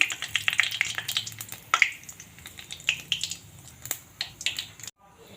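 Whole cumin seeds and two bay leaves sizzling in hot oil in a pan, a close crackle of small pops and spatters that settles, ending in a brief silence.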